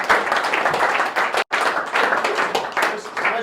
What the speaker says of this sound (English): But can we all give a massive round of applause to Chris?